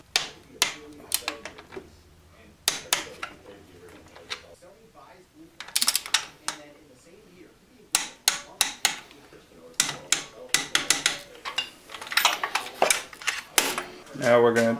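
Torque wrench tightening engine mount bolts on a Honda Grom during a CB300 engine swap, sharp metallic ratcheting clicks in bursts with pauses between them, close and clear over a quiet garage background.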